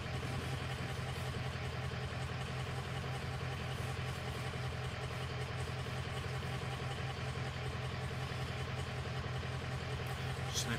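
A Ford 6.0 diesel engine idles with a combustion fault, a steady low droning hum with faint irregular clatter that holds evenly throughout, with no voices.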